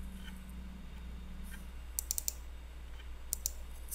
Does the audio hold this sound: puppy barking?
no